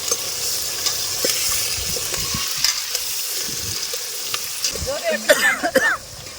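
Tamarind chutney is stirred in a clay pot with soft, steady scraping over a low sizzle-like hiss, while a voice and a cough break in close by near the end.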